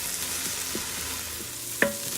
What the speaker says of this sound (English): Let's cook that for about 5 minutes until the onions are starting to brown.